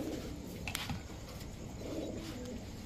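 Maxi racer pigeons coo softly and continuously at close range, with low murmuring calls layered over a steady background hum and no talking.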